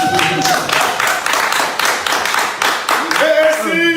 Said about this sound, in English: Now, no go clap for us now.